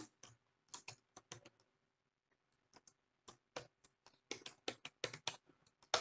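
Keys clatter on a computer keyboard in quick irregular bursts with short pauses between words, crisp and close in a quiet room.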